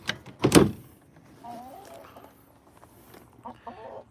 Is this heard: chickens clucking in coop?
yes